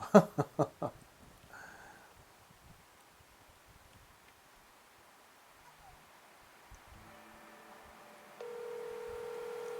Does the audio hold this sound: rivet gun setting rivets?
no